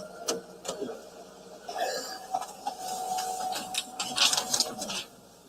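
A printer in a courtroom runs for several seconds with whirring feed noise, rattling clicks and mechanical shuffles, moderately close and with no talking over it.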